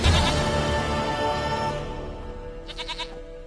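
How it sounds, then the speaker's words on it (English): A goat in The Witcher 3: Wild Hunt gives one long, wavering bleat, loud and close, trailing off into a brief higher quavering call at the end, with no talk over it. "Goat of mine, dearest, sweetest goat."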